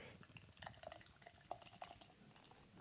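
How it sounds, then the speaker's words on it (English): Beer being poured into a glass at home, a faint, uneven trickle and splash with small drips and a light clink, quiet and close with no talk over it. "You can hear the pouring."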